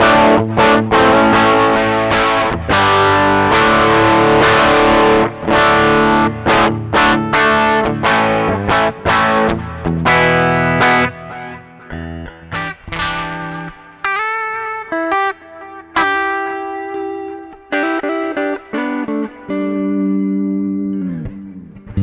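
An electric guitar played through a Joyo Cardboard effects pedal, giving a distorted, chorus-tinged tone: strummed chords, then picked single notes and ringing sustained tones with pauses between phrases, and no talking.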